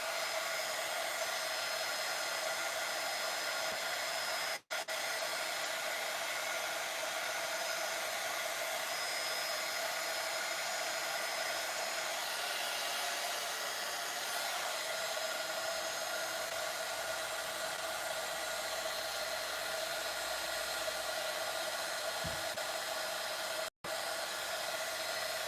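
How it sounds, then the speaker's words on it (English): A heat gun heat-sets a journal pack, melting its small plastic particles, with a steady, unbroken blowing whir held close and constant for the whole stretch. "And then I'm gonna heat set this, and it melts the like little plastic particles."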